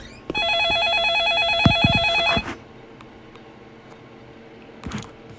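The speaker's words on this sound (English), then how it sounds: "Answer the phone." A Roblox video game telephone rings with a warbling electronic trill for about two seconds and then stops, followed by quieter background game noise and a short click near the end.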